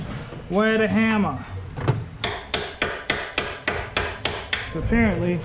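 A series of sharp metallic hammer strikes on a motorcycle part in a steady rhythm, about nine blows, with someone talking briefly before and after.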